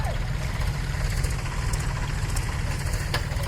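A tractor stuck after bad weather runs its engine steadily, a low continuous rumbling idle with faint knocking, close and fairly loud, alone without talk.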